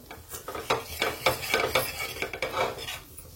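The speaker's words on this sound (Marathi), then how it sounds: "आता याला थोडंसं परतून घेऊ, मसाल्यामध्ये मिक्स करून घेऊ" Green peas and brinjal are stirred into masala in a pan, with rhythmic scraping strokes of a spoon, light clinks on the metal and a faint sizzle underneath, close up with no voices.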